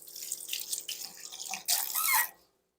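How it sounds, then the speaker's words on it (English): Fingers rinsed under a running kitchen tap during key lime cake baking: a close, splashy stream of water with uneven flow, surging brighter near the end before the tap shuts off into silence. "Let me rinse off my fingers."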